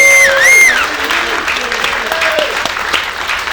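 Theater audience at the Deluxe Theater breaks into loud, sustained applause for Donnie Houston, a dense wash of clapping with a few voices and whoops rising over it, tapering slightly but continuing throughout.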